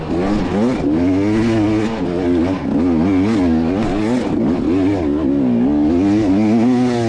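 A motorcycle engine revs hard on a hill climb during the Silver Kings 2025 race, a loud, close, continuous roar whose pitch rises and falls as the throttle works, with no talking.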